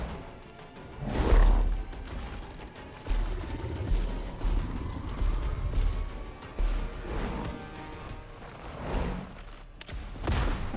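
Blasts from a fire-breathing blunderbuss in a video game fight against a High Priestess: several booming, crashing shots at irregular intervals over a dense layer of game sound effects.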